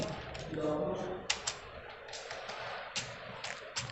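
Students in a computer typing lab at a skills training centre tap on keyboards, with scattered irregular clicks and bursts of keystrokes while a person talks over them.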